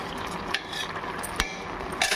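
Basmati rice stirred gently in a pot for curry leaf rice, a soft scraping swirl with a few sharp clinks of the spoon against the pot rim, close and alone.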